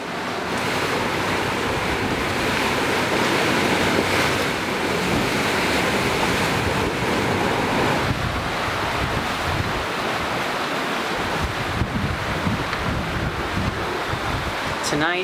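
Steady ocean waves rush and wash around a sailboat moving at about eight knots at night, with constant wind noise buffeting the microphone and no break in the dense roar.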